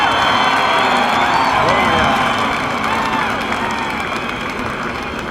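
A large grandstand crowd at the Daytona 500 cheers and roars steadily, a loud continuous wash of shouting voices with excited whoops rising through it.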